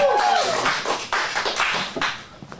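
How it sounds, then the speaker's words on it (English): A small audience at an adult comedic acting showcase claps, a short burst of applause that fades over a couple of seconds, with a few scattered claps at the end. "big round of applause for Corinne"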